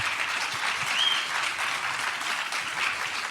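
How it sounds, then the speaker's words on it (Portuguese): A lecture audience applauds at the end of a talk, a full, continuous patter of many hands clapping at a steady level, with no voices over it. "uma salva de palmas"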